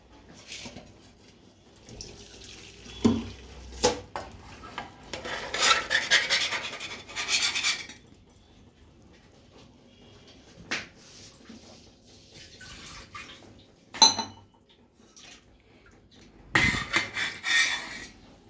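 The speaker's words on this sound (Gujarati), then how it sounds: "હવે હું ભાત ઓસાવી નાખું છું" Water drains off cooked rice in bursts of splashing and pouring, with scraping and clinking of the pot between quieter pauses, heard close.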